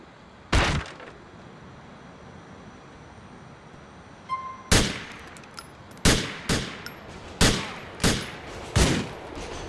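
Video game gunfire from GTA 4 rings out in the street: one sharp shot, a quiet gap, then a run of about eight loud cracks, each with a short echoing tail, over a low background rumble.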